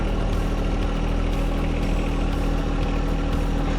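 A John Deere 1 Series tractor engine idles close by with a low, even rumble and a constant drone, unbroken throughout and with no voices.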